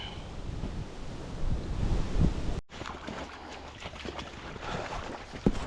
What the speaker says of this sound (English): Temperature's dropping, the wind's picking up.